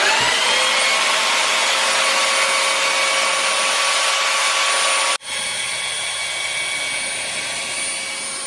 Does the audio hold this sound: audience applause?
no